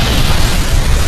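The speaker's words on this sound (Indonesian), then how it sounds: "Yuji kemudian bergegas menahan ledakan yang akan terjadi" An anime explosion as magical barriers crack and shatter, a loud, dense roaring blast with heavy low rumble that fills the whole short moment without any voices.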